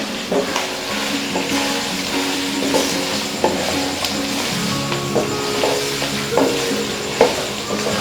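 Chicken fries with crushed ginger and garlic, sizzling steadily in a hot pan while a utensil stirs and scrapes, with occasional sharper clinks against the metal.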